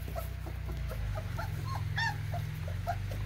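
Three-week-old Jersey x Opie puppies whimper and yip outdoors in short, scattered high cries over a steady low hum, several small voices calling close by.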